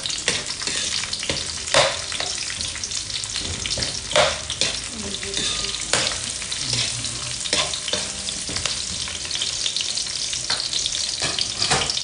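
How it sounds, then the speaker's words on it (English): Onions tipped into a pan over browned garlic for a kangkong dish, frying with a steady close sizzle, scattered stirring clatters and spoon knocks throughout. "now we're gonna add the onions now."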